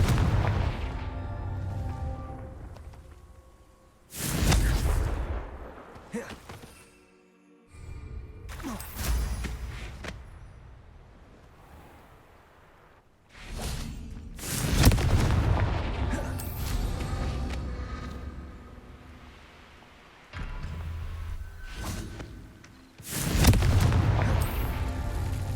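Repeated blasting-curse explosions from spellcasting in Hogwarts Legacy, loud booming bursts arriving in several separate clusters with rumbling decay between them, no talk.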